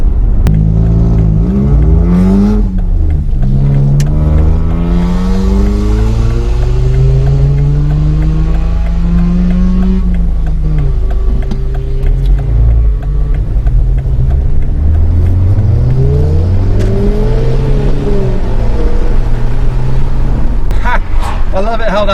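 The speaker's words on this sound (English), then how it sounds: "there's a loud Astra in front of me." A loud Vauxhall Astra engine accelerates steadily, its pitch climbing and falling through gear changes, close and continuous for the whole stretch.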